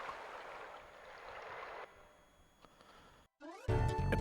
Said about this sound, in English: The water sound is magnificent.